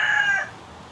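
A chicken crows at a rural holiday spot, the call loud and close in the first half second before trailing off into quiet outdoor background.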